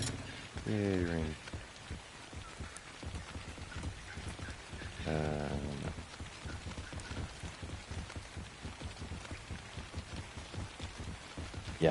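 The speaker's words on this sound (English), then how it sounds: "Yay, rain." Steady rain falls in the video game ARK, a continuous soft patter throughout, with two brief tonal game sounds early on and people talking over it.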